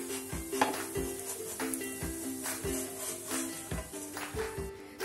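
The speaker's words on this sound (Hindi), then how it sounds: "ये आप सुन सकते हैं कितना क्रिस्पी बना है ये।" Crispy semolina and poha breakfast being lifted off a pan onto a plate, with repeated scraping and clinking of a utensil against the cookware over a faint sizzle, close and steady.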